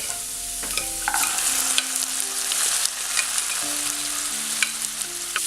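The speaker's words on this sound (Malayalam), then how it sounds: "ഈ വെജിറ്റബിൾസ് എണ്ണയിൽ നന്നായിട്ടൊന്ന് ഫ്രൈ ചെയ്തെടുക്കണം" Cooked vegetables fry in oil in a pan with onion, ginger and green chilli for wheat flour uppuma, giving a steady close sizzle that runs the whole time beneath soft sustained tones.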